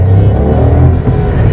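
A VW Polo Sport Austria engine revs loudly and close by, a dense, steady low rumble that swells slightly mid-way and holds for under two seconds with no voices.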